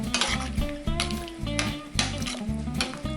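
A spoon stirs mango chutney into chicken mulligatawny soup in a pot, with repeated scraping strokes and clinks against the metal over a low simmering bubble, close and fairly loud.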